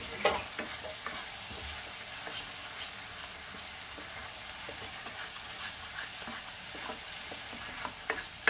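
A spiced masala with chili powder and salt, for Bengali shahi aloo dum, sautés in a pan with a continuous low sizzle broken by frequent short scrapes of a stirring spoon.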